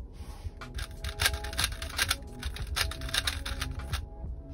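Rapid clattering clicks from turning a Gan i Carry smart speedcube, dense bursts of plastic layer turns coming in quick irregular flurries, close and crisp, with brief pauses between sequences.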